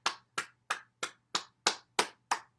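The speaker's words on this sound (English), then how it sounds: "Clap your hands." Eight sharp, evenly spaced hand claps ring out alone at a brisk steady pace during a morning bouncing exercise routine, each clap crisp and close with a short tail.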